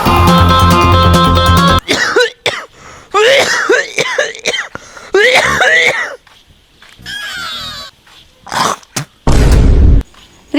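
An elderly man coughing in a comic scene, several harsh throaty bursts separated by pauses, loud and close, following a short stretch of music.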